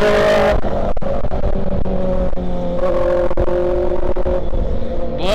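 A loud motorcycle engine runs close by on a highway ride from Mumbai to Lonavala, droning steadily with rising and falling revs and bursts of wind buffeting.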